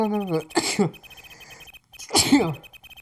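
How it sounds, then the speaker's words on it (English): Two sharp sneezes about a second and a half apart, each a sudden loud burst, with a faint hum from the room between them. "man's making me sneeze."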